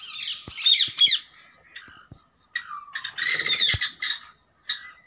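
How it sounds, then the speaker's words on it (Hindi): A caged parrot on a farm in Punjab, Pakistan, gives shrill, harsh squawks and squeals in a close, irregular series of short bursts separated by brief quiet gaps. "मियाँ मिठू"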